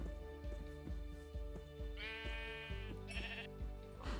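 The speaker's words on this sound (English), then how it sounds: "let's breed some sheep" Sheep in the Minecraft video game bleat several times over a steady, rhythmic plucked-note background soundtrack, the calls short and wavering, with no talking.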